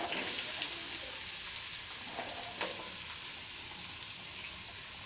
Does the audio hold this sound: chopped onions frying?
yes